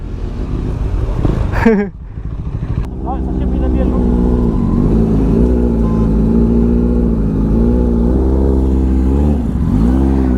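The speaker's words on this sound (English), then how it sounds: "Lots of loud bikes, bro." Loud superbike engines rumble and rev steadily at a crowded bikers' meet in Shillong, with a sharp rev burst early on, then a sustained close engine drone under occasional shouted talk.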